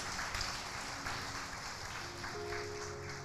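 Applause from a church congregation at a revival conference, a steady dense wash of many hands clapping that fills the space at moderate volume, with faint tonal sounds rising underneath toward the end.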